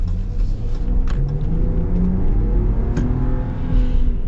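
A 2025 Ram Hurricane pickup's engine accelerates, a loud, close rumbling growl that builds and holds for a few seconds with no talk over it.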